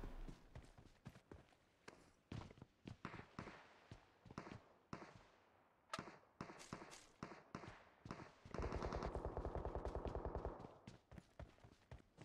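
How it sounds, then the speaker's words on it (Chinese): Gunfire in the mobile battle-royale game PUBG Mobile: a loud, dense string of sharp cracks over several seconds, then a rapid automatic burst near the end, with no one speaking. "前面刚刚有枪声"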